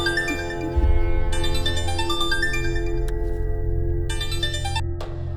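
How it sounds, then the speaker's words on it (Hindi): A mobile phone ringtone in a Hindi-dubbed South Indian action film plays a stepped electronic melody in two bursts over a steady background music score, with no voices. "फोन की घंटी बज रही है।"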